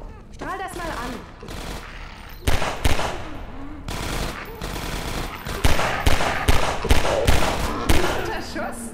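Rapid bursts of gunfire crack out repeatedly in the video game Half-Life 2: Episode One, some in quick volleys, loud and close, with brief voices and background noise between shots.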